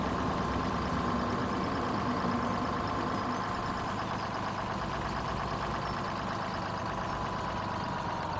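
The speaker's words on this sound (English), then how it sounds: "a short truck like this, but this sucker's loud" A loud short truck idles steadily close by, its heavy engine a continuous low rumble with a possible rod knock, running alone with no talk throughout.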